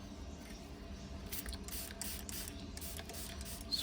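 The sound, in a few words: spraying alcohol onto a stick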